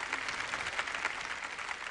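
Studio audience applause at a televised archaeology lecture, steady, moderately faint clapping from many hands with no voices over it.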